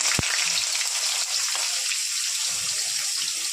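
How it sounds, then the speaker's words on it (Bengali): Whole cumin seeds and bay leaves frying in hot oil for a tempering, a loud continuous close sizzle with faint crackles and a single sharp pop near the start. "এই যে ফোড়নটা ভাজা হয়ে গেছে"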